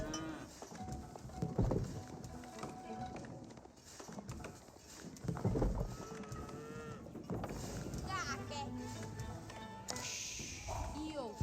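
Cows moo repeatedly in Age of Empires 4, several low lowing calls spread across the clip amid hoof clip-clops and busy game effects, with a voice talking over them.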